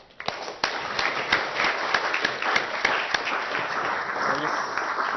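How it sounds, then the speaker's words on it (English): A panel audience at an architecture discussion claps a round of applause, a dense, loud burst of many hands with sharp individual claps standing out, sustained without talk. "So if we give them a round of applause."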